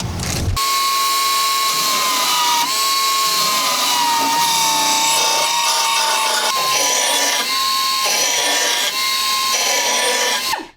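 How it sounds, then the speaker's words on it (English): A power sander smooths a wood piece for a double-DIN radio project on a Lotus Elise, giving a loud, continuous, close whine whose steady tone dips slightly as pressure changes, then stops abruptly at the end. "I'm gonna go ahead and get the sander, and we're gonna smooth that out just a little bit."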